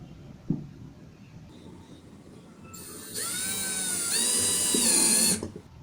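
A power drill whines loud and close as it drives drywall screws into a wooden shelf cube, rising in pitch for a couple of seconds before stopping, after a quiet stretch with a single knock.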